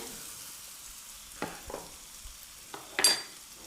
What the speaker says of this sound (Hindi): और मसाला हमारा बिल्कुल अच्छे से भुन जाएगा